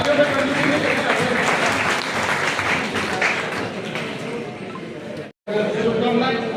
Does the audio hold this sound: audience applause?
yes